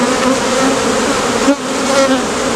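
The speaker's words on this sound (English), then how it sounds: "Got quite a few bees, and they're not exactly happy." A dense, steady buzz of many agitated honeybees around a hive, droning close by continuously with slight shifts in pitch and no voices.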